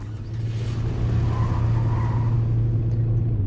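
Car skidding in the racing-style video game URGE, a steady loud engine drone with tire scrub running continuously for a few seconds, close and alone with no talk.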